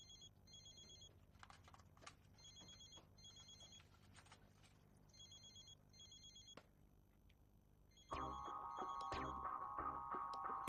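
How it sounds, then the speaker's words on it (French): A telephone rings out on an unanswered call, repeated electronic trill bursts in a steady rhythm over a low hum, then a louder, sustained tone takes over near the end. "Allez, je t'en supplie, décroche ton téléphone."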